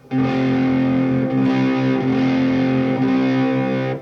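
Distorted electric guitar sustaining a IV chord, a D off an A, one loud ringing strum held steadily without talk.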